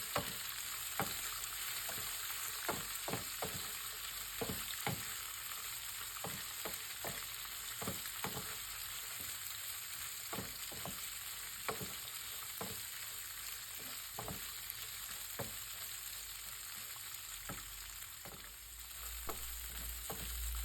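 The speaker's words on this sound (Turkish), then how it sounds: "Kuru domatesleri ekleyelim ve kavuralım." Sun-dried tomatoes sauté in a pan with a steady background sizzle, punctuated by many sharp clacks of a utensil stirring and scraping at an irregular rhythm throughout.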